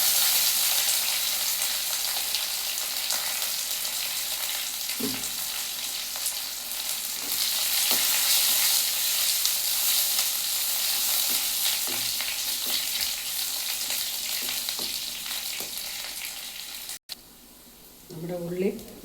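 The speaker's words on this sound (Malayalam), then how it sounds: "ഇച്ചിരി കറിവേപ്പില ഇടാം, അല്പം ചുവന്നുള്ളി ഇടാം," Curry leaves and shallots sizzling in hot oil in a pan for Kerala buttermilk curry, a loud continuous crackle with occasional spoon taps, and a voice speaking briefly near the end.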